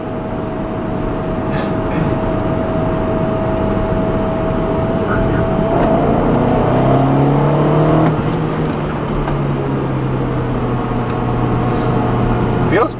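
A 2011 BMW X5 M pulling out of a corner on tight roads, its engine drone rising steadily in pitch as it accelerates, heard from inside the cabin with someone talking over it.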